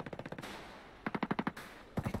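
Rapid automatic gunfire in a video game, three quick bursts of evenly spaced shots, loud and close, with short gaps between the volleys.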